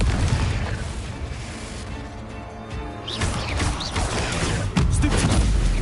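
Confringo blasting spell explosions in the Hogwarts Legacy video game, a dense barrage of booming blasts and crackling bursts with sharp pops, loud and close, building toward a heavy crash near the end.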